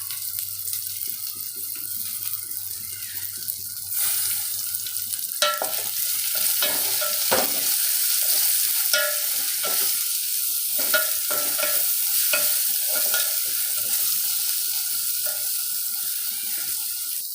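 Fish curry masala with tomato sautés in a pan, giving a steady hissing sizzle throughout while repeated scraping stirs and clicks of a spoon come close and fairly loud, with no talking.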